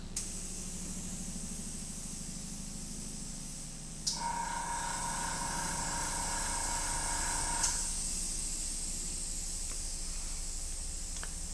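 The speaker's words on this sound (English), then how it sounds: "And if you've never done any airbrushing" An airbrush sprays blue paint onto a turned wooden bowl with a steady, close hiss throughout, and a higher-pitched whine in the middle stretch.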